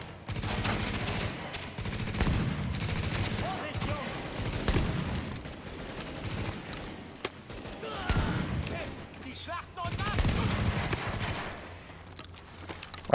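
Gunfire in the shooter game Tom Clancy's The Division, bursts of shots recurring loudly across the clip in several clusters, with people talking over the action.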